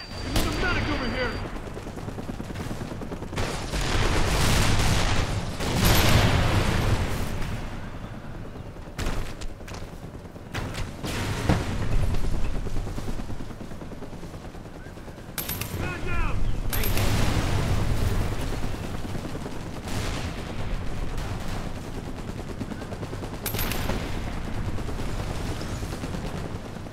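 Gunfire and explosions from the video game Mercenaries 2: rapid bursts of shots and heavy blasts come in loud waves separated by brief lulls, with voices talking in places.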